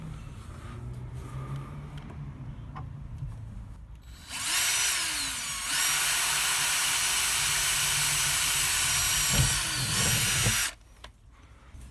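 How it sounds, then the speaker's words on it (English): A power drill whirs steadily for several seconds drilling a small pilot hole through a Sprinter camper van body from inside, close and loud, starting and stopping with a brief pitch shift, over a low background hum. "I'm going to drill a small pilot hole from the inside out"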